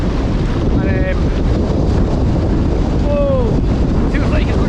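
Strong, gusty wind of nearly 30 mph roars constantly across the microphone at a wild camp by the water, loud and close, with faint whistling tones and a brief spoken word over it.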